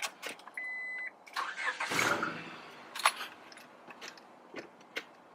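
A Honda Accord is started: a short electronic chime, then a brief rough burst of cranking, followed by scattered clicks and knocks, fairly close and fairly quiet.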